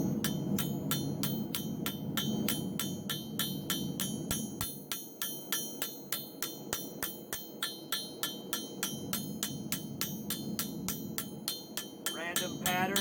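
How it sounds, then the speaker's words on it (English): A ball peen hammer strikes a U.S.M.C. 2021 birthday coin in a quick, steady series of sharp metallic taps, close and crisp, keeping an even rhythm throughout. "And I take the ball peen hammer."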